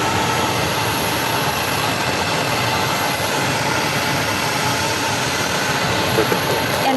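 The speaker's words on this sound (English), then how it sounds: "pretty soon we're going to see that American Airlines flight coming for its landing" A brand-new American Airlines Airbus A321 on landing approach at Phoenix Sky Harbor Airport, heard as a loud, steady broadband jet roar that stays constant throughout.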